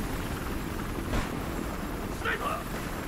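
Helicopter in the video game Battlefield Hardline gives a constant rotor and engine roar from inside the aircraft, with brief bursts of other game sounds and a voice talking over it.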